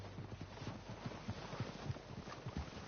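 Horse hooves clip-clopping in Red Dead Redemption 2, a steady run of low, soft hoofbeats at moderate distance over faint wind, with no voices.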